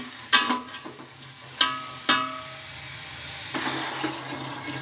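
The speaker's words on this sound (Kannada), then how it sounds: "ಅವರೆಕಾಳನ್ನು ಈಗ ಚೆನ್ನಾಗಿ ಎಣ್ಣೆ ಫ್ರೈ ಮಾಡ್ಕೋಬೇಕು." Lima beans fry in oil in a pan with a soft sizzle, broken by a few sharp clanks of a spoon stirring against the vessel.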